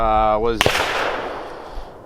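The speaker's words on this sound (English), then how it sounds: "If you hear any gunshots in the background, we are at a gun range" At an outdoor gun range, a voice is briefly heard, then a single sharp .410 shotgun shot with Winchester ammunition cracks loudly and its echo fades out over the following seconds.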